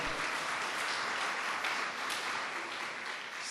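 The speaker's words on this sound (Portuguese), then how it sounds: "salva de palmas para Goiânia" A conference audience at a plenary session of Congresso Hagnos 2009 applauds for the people from Goiânia, a faint, distant, even wash of clapping throughout.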